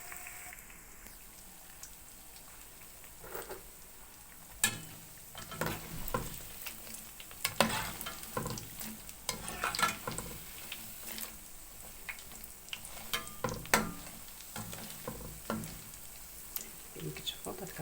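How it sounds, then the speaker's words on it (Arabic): Chebakia, a Moroccan pastry, frying in oil with a crackling sizzle. Irregular pops and sharp clinks come as pieces are turned, and someone talks at moments above the frying. "صافي هنا ملي غادي نحمر ليا الشباكيه ديالي"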